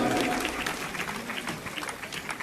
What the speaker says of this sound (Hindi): जोरदार तालियां बजाओ जरा उनके सम्मान में।